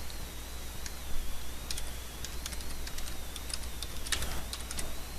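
Keys tapped on a computer keyboard while building a WordPress site, irregular soft clicks in small bursts at close range, quiet and steady with a faint background hum and no voices.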